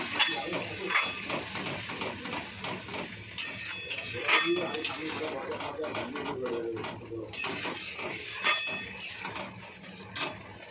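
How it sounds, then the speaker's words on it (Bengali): Onion and grated tomato frying in a pan over a high gas flame, with steady sizzling, utensil clinks and stirring scrapes running throughout under intermittent talk. "এটা একটু ভেজে নেব গ্যাসটা জোরে করে।"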